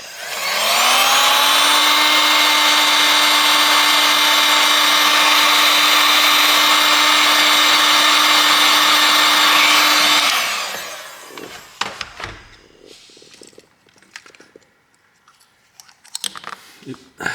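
A heat gun warming the power and volume flex cable inside a phone, a loud steady whirring blower roar with a constant whine that runs for about ten seconds, then stops, followed by small handling clicks.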